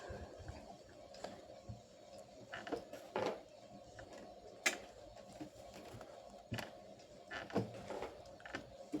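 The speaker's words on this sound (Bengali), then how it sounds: "এবারে লাস্টেরটা দিয়ে ভালোভাবে পিষে নিই" Food being ground by hand on a stone for a birthday meal at home, giving repeated scraping, knocking strokes in an uneven rhythm, fairly quiet and close, with no talk over it.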